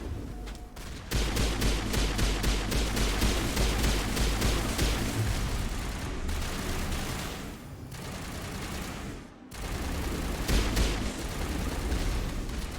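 Dense, sustained assault rifle fire from a Mass Effect battle, rapid automatic bursts rolling almost continuously and loud, with brief lulls near the start and around the middle before the barrage resumes.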